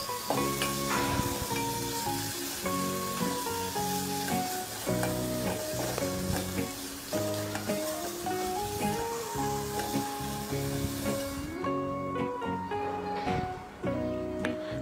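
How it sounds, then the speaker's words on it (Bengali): Ground spices, including turmeric, fry together in a pan over low heat, making a continuous soft sizzling hiss beneath a steady melodic, music-like tonal backdrop that thins out near the end. "এরপর আমি সব মশলা একসাথে কিছুক্ষণ ভেজে নেব। হালকা আঁচে আমরা ভাজবো যেন মশলাগুলো কষানো হয়।"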